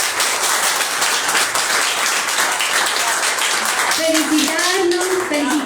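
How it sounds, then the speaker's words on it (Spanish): Loud, sustained audience applause after a conversation session at a peace and memory gathering, dense clapping throughout, with a voice speaking over it near the end. "Quiero que nos demos un aplauso por este momento de conversación."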